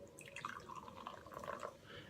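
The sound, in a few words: pouring Gridlock Extra White energy drink into glass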